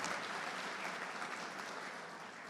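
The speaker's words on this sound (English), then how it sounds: "Please give them a round of applause" Steady, dense applause from a commencement ceremony audience, a broad wash of many hands clapping at an even level throughout, with no voices on top.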